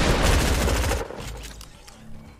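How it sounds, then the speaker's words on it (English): Gunfire in the Fortnite Battle Royale video game: a loud, dense burst of shots lasting about a second, then a decaying rumble and scattered quieter impacts. "I missed my shotgun shot there"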